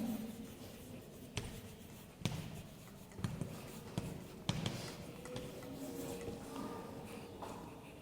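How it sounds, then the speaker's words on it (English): Teacher writing on a classroom board, a series of sharp taps and scratchy strokes at irregular intervals over faint room noise, with no clear speech. "I am going to write over here, guidelines for writing"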